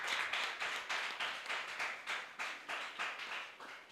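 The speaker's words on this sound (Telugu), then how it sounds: "మీ అత్తమ్మ గుడినట్టు మీ చప్పట్లు." Rhythmic group clapping from a church congregation at a Sunday service, about eight even claps per second-and-a-half pattern, steady and moderately distant with no voices.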